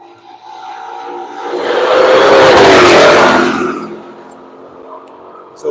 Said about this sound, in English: Here comes the Shelby